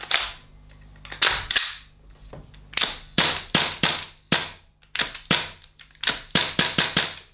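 Airsoft gas blowback rifle, a Double Eagle Noveske N4, fired with a PMAG magazine: about fifteen sharp, loud cracks, single shots and quick bursts with short gaps, near and alone.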